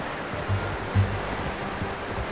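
A cold stream in the video game Red Dead Redemption 2 flows softly and continuously as horses ride through it, with a couple of dull low thumps rising briefly above the quiet water.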